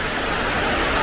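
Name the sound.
waterfall flowing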